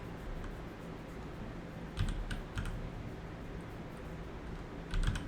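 Quiet, close typing on a computer keyboard: a few soft key clicks in short bursts, with a louder cluster of taps near the start and another near the end over faint room hiss.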